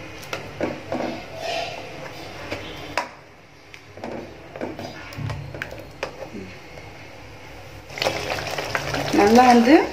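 Brinjal (eggplant) cooks in a hot pan for a country-style gravy, with soft sizzling, stirring scrapes and a few clinks, then a louder frying hiss toward the end while someone talks.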